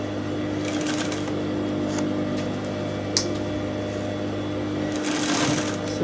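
Sewing machine stitching a seam on a bustier blouse with a deep plunging neckline, a steady close mechanical whir with faint ticking clicks, running continuously.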